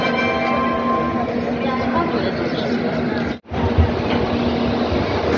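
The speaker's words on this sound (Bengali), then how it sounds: "টুনলা জংশন থেকে আমাদের ট্রেন ছাড়লো" Loud rumbling of the Ananya Express departing Tundla Junction, steady and close, with a brief dropout partway through and a faint bell-like tone under the noise.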